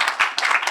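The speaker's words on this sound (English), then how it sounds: "So if we can give a hand of applause" Brief burst of audience clapping for panel speakers at a theology and advocacy talk, close and fairly loud, with a few distinct hand claps.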